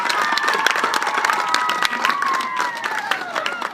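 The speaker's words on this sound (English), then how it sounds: "let's have one last round of applause for our seniors" Crowd claps and cheers for senior players at a high school girls' soccer senior night, dense outdoor applause with whistling-like cheers riding over it, continuous and fairly loud.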